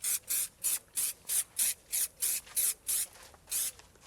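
Polish is sprayed onto motorcycle parts in about a dozen short, evenly spaced hissing bursts, close by and in a steady rhythm.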